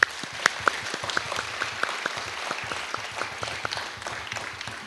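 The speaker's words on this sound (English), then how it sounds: "Join me in thanking them one more time with a warm round of applause" Applause at a groundbreaking ceremony for Landmark Hall, a fairly quiet, sparse patter of clapping hands with a few sharp louder claps standing out, steady across the whole stretch.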